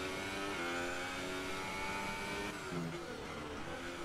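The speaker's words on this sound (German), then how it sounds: "Hör dir mal den Ferrari von Vettel an, der klingt noch interessanter." Sebastian Vettel's Ferrari Formula 1 car in the F1 2018 video game, at the Singapore qualifying session, holds a loud, high, steady engine whine with brief pitch dips as it shifts and changes speed, with no talk.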